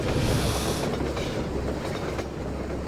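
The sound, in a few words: fast train passing in video game Half-Life 2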